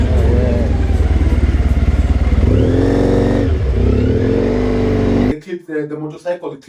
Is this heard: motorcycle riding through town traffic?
yes